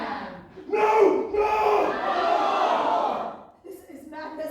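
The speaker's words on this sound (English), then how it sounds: "Listen to the crowd. They all want to fight." An angry crowd in a musical theatre performance shouts battle cries together, a loud sustained mass of raised voices swelling and falling, with a short pause before shouting picks up again.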